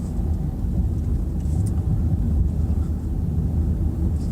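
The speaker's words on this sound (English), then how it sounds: "The car's just sort of taking itself around now, no need for hardly any gas" Car rolling along at about 20 mph with barely any throttle, eco-driving over a small crest: a steady low engine and road rumble with tyre noise, constant and close throughout, no talking.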